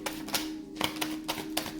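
Quick, crisp shuffling of tarot cards close up, a series of short riffling taps in an uneven rhythm.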